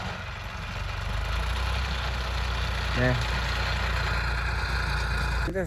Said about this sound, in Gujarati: અત્યારે જો ટ્રેક્ટર હાકે છે આમાં